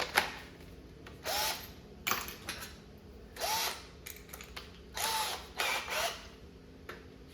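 Short whirring bursts from a cordless power drill, about six of them with pauses between, close and fairly quiet, used while restoring the control panel of a Q*bert arcade cabinet.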